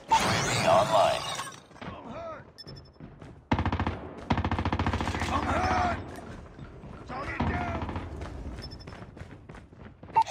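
Type-25 rifle bursts in Call of Duty Mobile, rapid automatic gunfire in repeated loud volleys with brief pauses, mixed with game effects and a voice talking.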